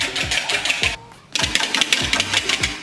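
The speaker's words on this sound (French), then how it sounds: "Donc on va commencer à monter les blancs tranquillement." An electric mixer whipping egg whites for a lemon meringue tart, a close, steady buzzing whir with rhythmic beating pulses, briefly dipping before resuming.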